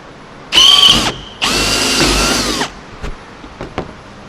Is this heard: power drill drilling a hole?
yes